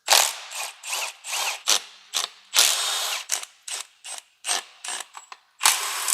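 Repeated ratcheting of a hand ratchet loosening E10 Torx bolts beneath a Mercedes, heard as short bursts of rapid clicking with brief pauses in between, close and fairly loud, with no talking.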